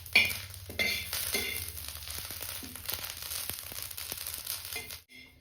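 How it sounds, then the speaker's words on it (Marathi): Curry leaves roast in a pan with a soft crackling sizzle while a spoon stirs and scrapes them in short, repeated strokes, close up, the sound cutting off abruptly at the end. "कढीपत्ता लाल भाजलाय"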